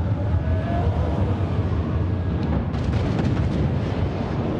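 Artillery fires and shells explode in a strategy video game as a loud, dense rumble of overlapping blasts and booms. Sharper cracks break through near the end.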